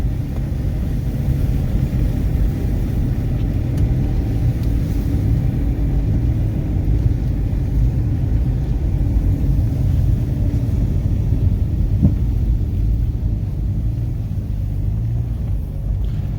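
A steady, heavy engine rumble drones on without a break, loud and close, from inside an old Saturn Ion with barely working brakes rolling along.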